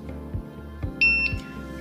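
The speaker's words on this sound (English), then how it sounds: "wait to hear the beep" A Moore&Wright MW198-40DPL digital height gauge on a granite base gives a single short, clear electronic beep after measuring, with faint mechanical clicks before and after.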